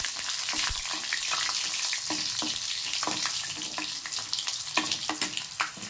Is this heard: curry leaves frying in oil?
yes